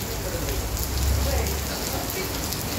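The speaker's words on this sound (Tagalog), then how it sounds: "patila na ang ulan" Heavy rain pours steadily in Rovinj, Croatia, a dense, even hiss of drops on surfaces that swells slightly midway, close and continuous with no voices.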